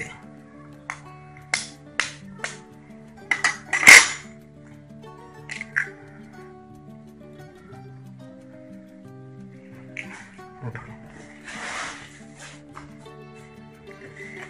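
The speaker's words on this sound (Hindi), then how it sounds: "इस तरह दूसरा अंडा भी तोड़ लेते हैं" Eggs crack open for a desi omelette: a cluster of sharp taps and clinks against a bowl, one louder crack standing out, then softer clicks with light kitchen handling.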